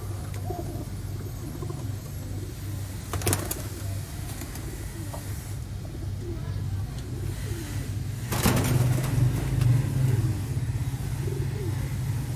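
Kamagar golden Ferozpuri pigeons cooing softly in low, repeated calls, with a faint rumble of passing traffic and brief louder noise bursts in the background.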